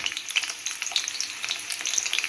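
Potatoes frying in a pan in a village kitchen, a steady close crackling sizzle with dense popping spatters throughout.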